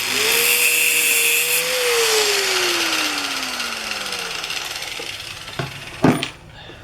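A Dremel rotary tool cutting through a nail gives a loud, steady high whine that slowly drops in pitch as it works. It winds down near the end with a few short clanks and bumps.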